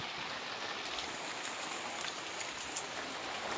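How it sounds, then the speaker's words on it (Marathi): Steady rain falls on a turmeric farm in the Konkan countryside, a continuous broadband hiss with scattered drop patter, moderately loud and even throughout, with no talking. "पाऊस पडायला लागलाय"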